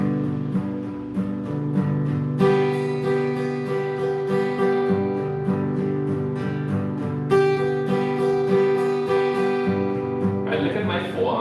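Acoustic guitar strummed at full speed in a beginner lesson, a steady, fast rhythmic chord pattern ringing out loud and close, with a brief brighter flurry at the very end.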